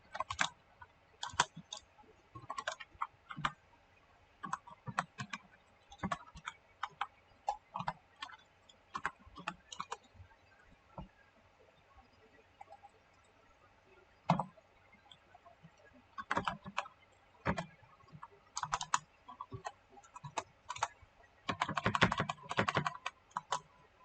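Close computer keyboard typing while an HTML web page is written, with irregular bursts of quick key clicks separated by pauses, ending in a denser flurry of keystrokes over a quiet background.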